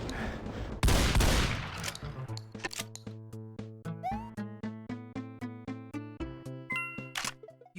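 Weapon fire in the Doom mod The Golden Souls 2, aimed at a distant Baron of Hell: a loud noisy burst, then a steady train of rapid, ringing, metallic-toned shots repeating evenly for several seconds.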